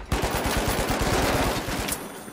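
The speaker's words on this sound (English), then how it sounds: "I'm shooting those mines." Rapid automatic gunfire from a weapon shooting at mines in the video game The Finals, a dense burst of fast repeated shots lasting about two seconds, loud and close, with no talking.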